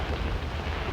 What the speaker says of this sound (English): Boy, it's sure raining out today.